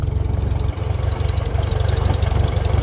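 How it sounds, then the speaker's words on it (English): Farmall M tractor engine pulling up a hill in road gear, a loud, steady low-pitched chugging throb with an even firing rhythm, close and continuous. "You can pull this hill out on road gear."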